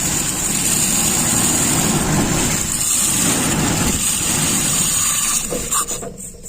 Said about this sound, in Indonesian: Ini sudah menyala mesinnya.